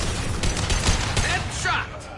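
Gunfire in the video game Mass Effect 2 ends in a headshot: a dense, loud burst of shots with sharp impacts runs through the clip, and a voice speaks over the fire.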